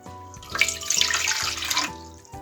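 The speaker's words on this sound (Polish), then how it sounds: "Bierzemy średnią miskę, wlewamy do niej wodę" Water pours steadily into a medium bowl for about a second and a half, splashing close by over soft background music.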